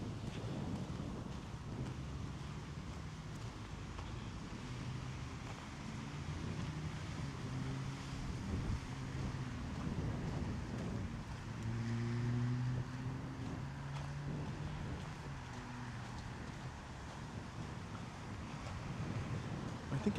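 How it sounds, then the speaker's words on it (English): Steady outdoor wind buffets the microphone with a low rushing roar, continuous and fairly even, with a faint hum of water or a boat beneath. "Joe, let me know if it's a little windy."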